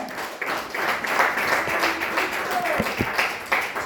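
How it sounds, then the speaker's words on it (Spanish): A church congregation claps and applauds together in a steady, close burst of hand claps, while a preacher's voice keeps speaking over the noise. "Dale fuerte ese aplauso a Jesucristo"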